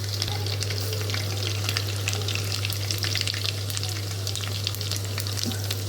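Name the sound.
frying spice tempering in oil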